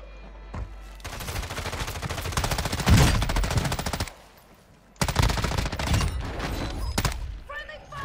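Rapid automatic gunfire in the video game Warzone, two long loud bursts of close machine-gun fire separated by a short lull, with a voice shouting over it.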